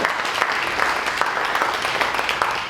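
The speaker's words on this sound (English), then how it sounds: "Give them applause" A museum speaker-series audience gives steady, moderate applause for a local auto sales and body shop sponsor, a continuous patter of many hands in a room.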